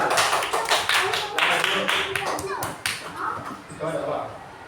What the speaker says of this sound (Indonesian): silakan berikan tepuk tangan untuk kelompok akar